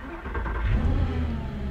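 Pambuffetti PJ-01 hypercar's ten-cylinder engine revving loudly up close, a deep sustained roar that climbs and holds steady without a break.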